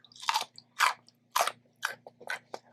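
Raw okra crunched between the teeth, six sharp close-up crunchy bites in a steady rhythm, loud and crisp against near silence.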